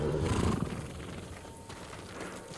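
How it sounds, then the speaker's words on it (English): A horse whinnies in the samurai video game Ghost of Tsushima, a short, fairly close neigh at the start that tails off into a low game ambience with no talking. "which horse do you want? I want this one."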